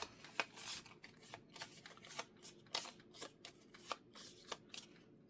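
A deck of playing cards for a tabletop heist game is shuffled by hand close up, giving a series of quick riffling bursts and soft slaps in an irregular rhythm, with no talking.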